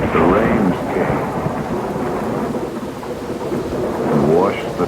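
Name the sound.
rain and thunderstorm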